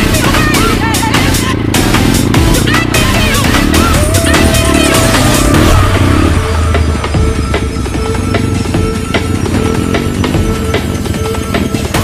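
Dirt bike motorcycle on a narrow, rough mountain trail in Banjarnegara, engine buzzing loud and close with knocks and rattles from the bumpy ground, a rider's voice occasionally under it.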